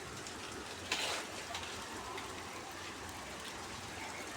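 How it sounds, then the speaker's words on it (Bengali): Rain falling outside during a heavy downpour, a faint, steady wash of hiss heard from indoors, with a brief louder splash near the start. "এই যে খুব সুন্দর বৃষ্টি পড়তেছে বাইরে"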